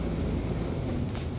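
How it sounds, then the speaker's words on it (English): A loud garbage truck passing on a street, a steady heavy low rumble and roar close by, sustained throughout with no talk over it. "This garbage truck is fucking loud as shit, dude."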